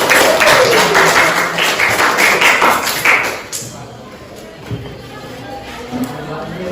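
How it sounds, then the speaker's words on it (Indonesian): A room full of people claps for a presenting group during a mathematics teacher performance assessment, a dense, lively burst of applause lasting about three seconds before fading into quiet room noise with faint shuffles. "Oke, tepuk tangan dulu untuk kelompok."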